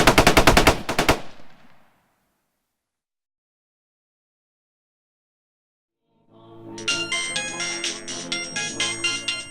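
A short, loud burst of rapid automatic gunfire in a horror film scene opens the clip and cuts off within about a second. Silence follows, then bright ringing tonal music rises toward the end.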